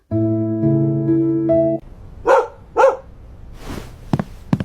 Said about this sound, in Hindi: ये प्यारा सा डॉगी किसका है